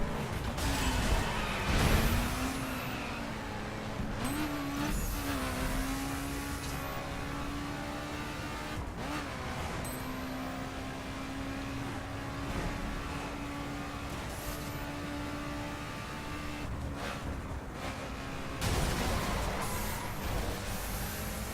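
Cars racing on a Las Vegas track in The Crew, with a continuous engine drone and rising and falling revs, plus whooshes of cars passing and a few brief impacts, loud throughout with no talking.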